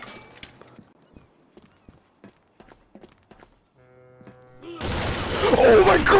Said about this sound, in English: I just heard the footsteps all around me